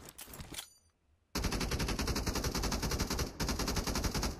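Sustained automatic fire from a PKM machine gun in a shooter video game, loud and continuous with rapid even bursts after a brief quiet gap, with a short pause before the firing resumes.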